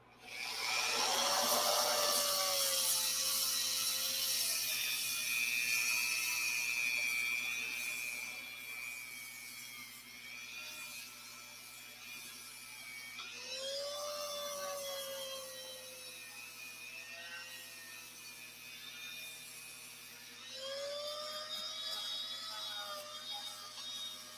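A Dremel rotary tool with a sanding bit whines steadily at high speed, its pitch sagging and rising as it bears on the work, running almost nonstop and up close.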